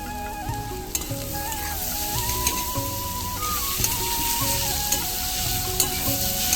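Sliced potato, ginger and chopped garlic fry in oil in a pan, with a dense, continuous sizzle and occasional scraping stirs, close and fairly loud throughout with no talk.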